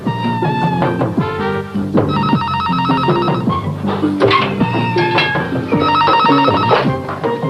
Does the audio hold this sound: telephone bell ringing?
yes